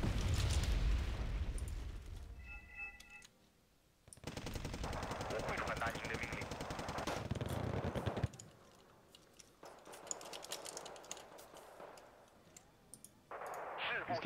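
Mortar fire and explosions in the war strategy game Wargame Red Dragon, with bursts of rapid gunfire and booming blasts that come and go in loud waves, with brief quieter gaps.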